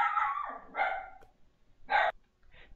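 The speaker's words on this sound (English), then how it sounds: "Puppy becomes lap puppy when she barks too loud." A pet puppy in the farming game Agrarian Siblings barks in three or four short, sharp bursts at close range, with brief pauses between them and no talking.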